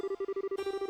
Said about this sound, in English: Just flip the switch on the phone. It sounds like it's working.